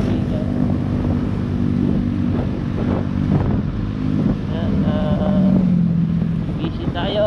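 A motorcycle rides along the Marilaque mountain road near Tanay, Rizal, its engine droning and shifting pitch under heavy wind buffeting on the microphone.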